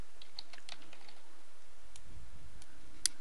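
Someone types on a computer keyboard at a car dealership desk. The keystrokes are soft and irregular, faint and close, and are heard alone against quiet room noise.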